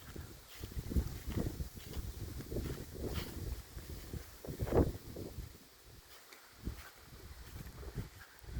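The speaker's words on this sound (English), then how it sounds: "here and there the wind picks up, Oh, shake the trees out in the backyard" Hurricane Ian winds gust through backyard trees, a rough, rumbling rush that swells and eases irregularly over several seconds, with heavy microphone buffeting and no voices.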